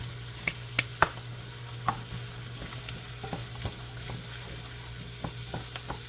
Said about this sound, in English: we're gonna let that simmer on medium for a little bit